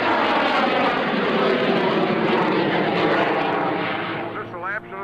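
A propeller aircraft flown by Jimmy and Kyle Franklin at the 2003 Vectren Dayton Airshow roars loudly and steadily at full throttle, easing off near the end, with people talking beneath the engine noise.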